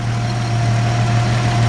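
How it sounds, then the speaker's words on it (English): A 1959 Studebaker Lark VI six-cylinder engine idles smoothly and steadily, a low constant hum with a faint higher whine, close and loud throughout. "Perfectly smooth running 6-cylinder."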